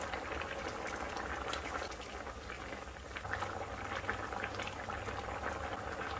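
Indian curry seasoned with coriander spice bubbling in a pot, a dense, steady boil of fine popping bubbles that stays even and fairly quiet throughout, with no voices.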